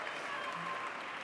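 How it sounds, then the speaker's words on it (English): Gala audience giving a round of applause for an honored guest, a short burst of dense clapping from a crowd, soft and even throughout. "Can we give her a round of applause?"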